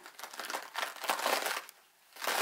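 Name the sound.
splitting a napa cabbage in half by hand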